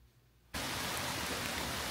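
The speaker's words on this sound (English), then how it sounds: "It's raining. We've got some water." Rain falls steadily, a dense, even hiss that starts abruptly after a brief quiet moment and then continues at a moderate level, close and unbroken.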